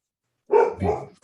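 A dog gives a close, loud bark, one double-pulsed woof after a moment of silence, with the start of another bark cut off at the end.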